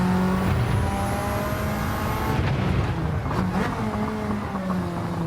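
A Mitsubishi Lancer Evo set up more like a rally car than a track car drives in Gran Turismo 7, its engine droning loud and steady, with gear changes shifting the pitch partway through and no voices.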